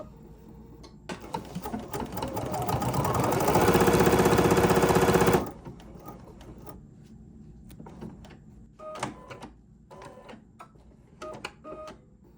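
An embroidery machine stitches a small flower through several fabric layers, a loud dense mechanical whir building for a few seconds and stopping abruptly, followed by quieter clicks and handling sounds.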